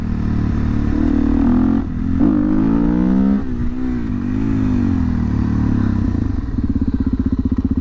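A Suzuki DRZ400SM motorcycle with a freshly flashed ECU is ridden, its single-cylinder engine revving up and down through gear changes, loud and close, ending in a fast, even idle-like putter.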